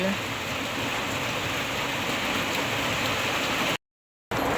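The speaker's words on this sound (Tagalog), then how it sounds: "Tapos po sobrang lakas po ng ulan." Heavy typhoon rain hisses as a loud, dense, continuous wash close by, with a brief dropout near the end.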